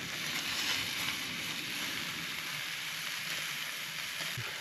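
Food frying in a pan at a wild camp pitch by a loch in Scotland, a steady, even sizzle with a faint crackle, continuous and moderately quiet.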